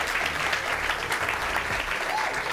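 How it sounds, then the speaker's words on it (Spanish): Steady, dense applause from a crowd at a gaming championship event, fairly close and continuous throughout, with some indistinct voices mixed in. "Un fuerte aplauso, madre mía."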